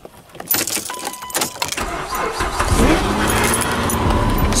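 Keys jangle, then a car engine cranks in rough bursts in snowy, cold weather before catching and settling into a steady, loud, close running drone.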